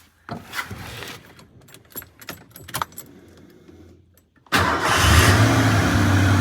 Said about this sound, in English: If you unplug it, it'll crank right up.